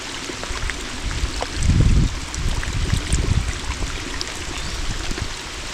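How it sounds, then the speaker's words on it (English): Heavy rain pours at an off-grid cabin, running in a broad, steady wash of water with rushing runoff and a few heavier low surges, close and loud with no voices. "The only problem is it's running so heavy, the rain."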